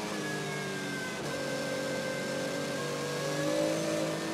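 A Porsche GT race car from the GetSpeed Performance team drives the Nordschleife in a VLN endurance race, its engine holding a steady high note at moderate distance and rising slightly toward the end.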